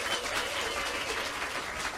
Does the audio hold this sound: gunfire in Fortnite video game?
no